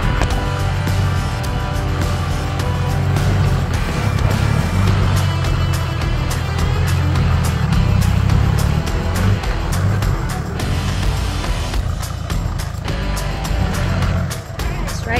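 A four-wheel-drive vehicle on a Cape York track revs its muffled engine hard through deep ruts, a loud continuous low drone rising and falling throughout, with occasional voices underneath.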